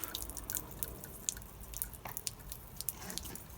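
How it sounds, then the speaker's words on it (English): Window glass being rinsed and scrubbed by hand, a soft, close run of wet squishing and dripping strokes with a few brief squeaks, steady and fairly quiet with no voices. "give that a good rinse, a good scrub I mean"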